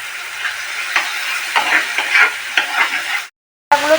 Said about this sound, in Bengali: তারপরে ভালো করে কষাবো